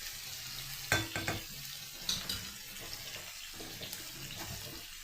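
Potatoes with onion and pepper fry in a pan, a quiet sizzle under scraping stirs and a few sharper knocks of the utensil against the pan.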